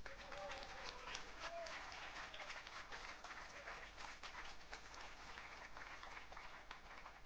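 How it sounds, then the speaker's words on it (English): Audience applause after the final of a 10m air rifle prone event for visually impaired para shooters, a soft, distant, continuous patter of many hands with talking mixed in. "He got no medal, but a wonderful applause from the audience."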